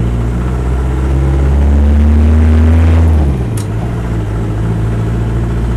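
Land Rover 90 hardtop with a 2.5 diesel engine, a loud close engine note that rises and holds, then drops at about three seconds and settles into a steady lower idle hum.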